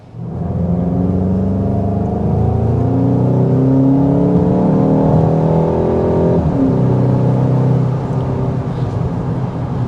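A 2025 Volkswagen Golf GTI driven on a race track, its engine revving up through the gears with rising and falling pitch, loud and steady from inside the car.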